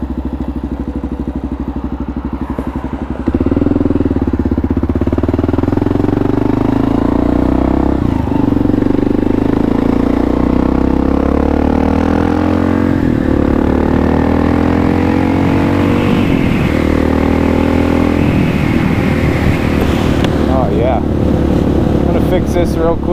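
A Kawasaki KLR650 single-cylinder motorcycle, freshly rebuilt and carburetor-tested, rides with a loud close engine drone that rises and falls through gear shifts, under wind noise with a rider talking.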